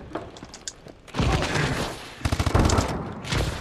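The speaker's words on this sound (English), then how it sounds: "Where was that gunfire from?" Bursts of gunfire in Call of Duty: Advanced Warfare, a heavy volley followed by a rapid string of close shots, loud and dense with no talking.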